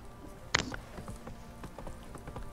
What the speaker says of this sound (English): Faster horse.